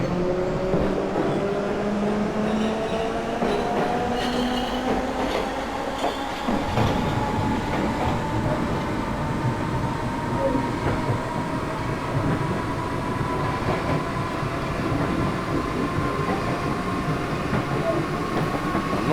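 A Class 313 electric train in the OpenBVE simulator accelerates away from Silvertown station on the North London Line. A steady, loud motor and rail rumble with rising whine and clickety-clack persists throughout, and there is no talk.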